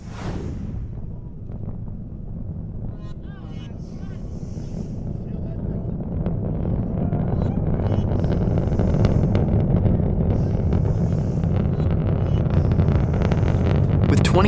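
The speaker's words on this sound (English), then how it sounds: "This is the sound of the Falcon Heavy rocket taking off from Pad 39A at the Kennedy Space Center." A SpaceX Falcon Heavy rocket, with 27 Merlin engines, launches from Pad 39A at Kennedy Space Center, making a deep, continuous roar that grows steadily louder and fuller over the whole stretch.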